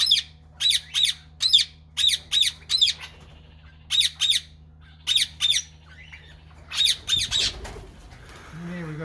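Indian ringneck parrots in a backyard aviary give repeated loud, harsh squawks in short bursts of two to three calls, with pauses between, fairly close by.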